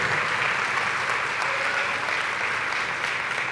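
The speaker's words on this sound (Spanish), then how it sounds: "Aplauda fuerte si lo cree." A church congregation claps loudly and continuously during a Spanish-language sermon, a dense, even wash of applause with no pauses.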